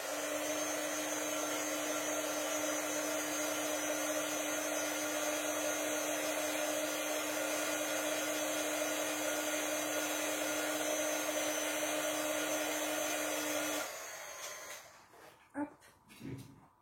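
A hair dryer drying acrylic paint on a gel press print blows with a loud steady whine for about fourteen seconds, then cuts off, followed by a few brief handling sounds.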